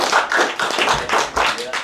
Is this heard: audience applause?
yes